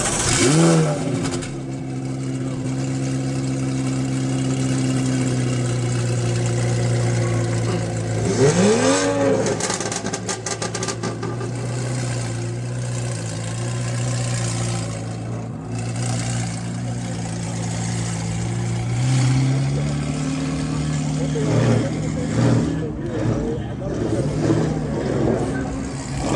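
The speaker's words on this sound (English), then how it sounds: "Might actually get a cold start." A McLaren 720S at a car meet fires up with a sharp rev burst, then settles into a deep, steady idle with occasional blips, close by, while people talk nearby.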